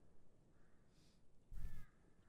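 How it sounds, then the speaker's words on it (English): A single crow caws once, faint and distant, over quiet outdoor background noise. "You hear birds too"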